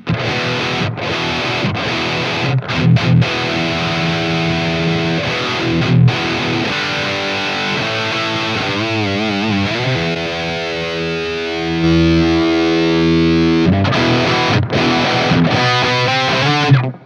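Electric guitar through an OCD overdrive pedal set to low drive, playing chords and sustained notes, crunchy and fairly loud, with a few brief pauses and a thicker passage near the end.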